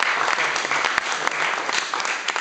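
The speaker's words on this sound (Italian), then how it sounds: "Jonas Nielsen, un bel applauso per lui." An audience at a Roma club presentation event applauds a player, loud, dense and close clapping that stays steady throughout with a few sharper individual claps standing out.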